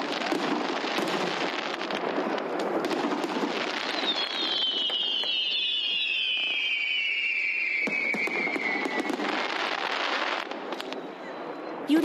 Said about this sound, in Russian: возле памятника Александру Невскому прогремел праздничный салют в честь 73 лет свободы от фашистских захватчиков